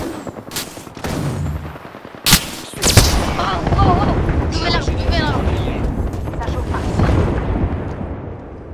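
A frag grenade blast and gunfire in Apex Legends, sharp loud bangs early on followed by sustained shooting and battle noise, with voices talking over the fight.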